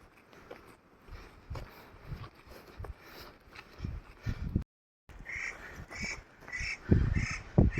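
Harsh, repeated bird alarm calls ring out in quick bursts from a nearby tree, growing louder toward the end over a faint outdoor background on a mountain trekking route.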